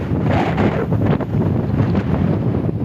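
Strong wind on Mararison Island roars and buffets against the microphone in a constant, heavy rush.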